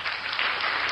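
A short burst of dense, steady hand-clapping from an audience at a gathering, close and fairly loud throughout.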